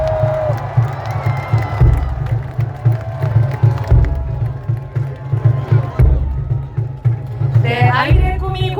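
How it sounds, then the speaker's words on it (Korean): A crowd at an outdoor presidential campaign rally at Seoul City Hall cheers and applauds under loud rhythmic music with a thumping beat, the crowd noise steady and broad, with voices rising near the end. "여러분 큰 박수 부탁드리겠습니다"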